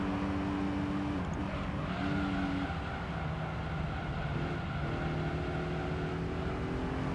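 Race car engine from Gran Turismo 3, a front-wheel-drive prize car driven around a right-biased circuit, droning steadily with shifting pitch as it pushes through corners, continuous and fairly loud with no voice.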